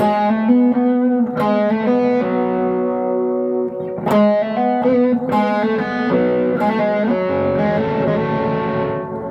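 An electric guitar plays a slow melody through distortion, with single notes and a few chord stabs ringing out and sustaining. It is close and clear, with no talk.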